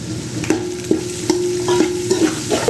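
Finely chopped small onions (shallots) frying in hot oil in a pan with already browned chillies, stirred with a spatula that scrapes about every half second over a steady sizzle.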